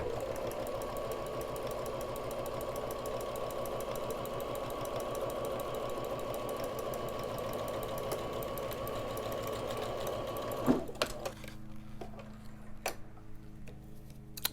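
A sewing machine runs steadily for about eleven seconds, stitching a quarter-inch seam on a fabric face mask with a fast, even ticking rhythm, then stops, leaving a few scattered clicks and quiet handling noises.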